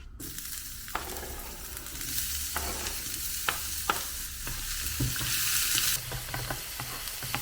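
Onions and eggs fry in a hot pan for egg fried rice, a loud, steady close-up sizzle with the scrape and clack of a utensil as the mix is stirred continuously.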